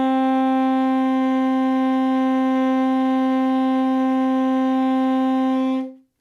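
Tenor or soprano saxophone sustaining a single long, steady D as a beginner's first note, one unbroken tone about six seconds long, clear and close, ending abruptly with no talking.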